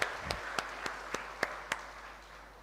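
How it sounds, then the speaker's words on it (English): A handful of distinct, evenly spaced claps ring out at a teachers' health workshop, fairly faint against a low room hiss, with no voices. "Shall we give them both a round of applause for a wonderful time?"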